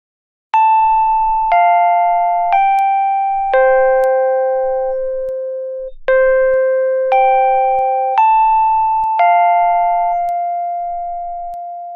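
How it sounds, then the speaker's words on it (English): A Westminster chime doorbell rings out its full two-phrase melody, clear, electronic tones stepping down and back up, loud and alone with each note decaying, the final tone lingering. "we chose to get a Westminster chime doorbell."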